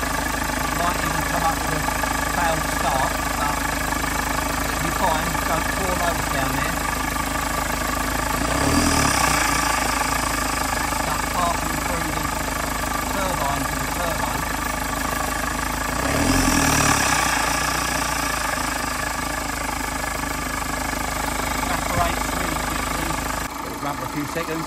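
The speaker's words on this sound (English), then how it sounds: "I'm going to fire the engine up just to blast that through" Rough, uneven idle from a 2012 Audi A1 engine with its MAF sensor disconnected, a steady mid-range rumble running throughout with two brief surges in the middle, no talk over it.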